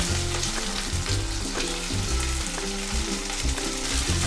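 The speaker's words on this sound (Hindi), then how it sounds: "आधा मिनट मटर को पकाएंगे" Peas fry in a hot pan for restaurant-style veg jalfrezi alongside cauliflower, giving a steady, loud sizzle with recurring stirring scrapes throughout, close and without talk.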